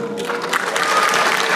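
A large crowd at a town hall meeting in Daegu applauds steadily and loudly, with the clapping building slightly and scattered cheering mixed in.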